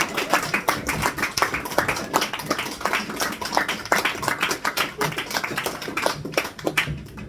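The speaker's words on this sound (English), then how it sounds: "Then we're going to keep that clap going." A comedy show audience applauds after a comedian's set with steady, dense clapping that holds at an even level throughout and fades slightly at the end.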